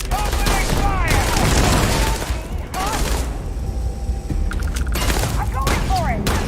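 Gunfire in the game Starfield comes as dense, loud bursts of rapid shots and booms, dropping briefly before picking up again, with speech mixed in at times.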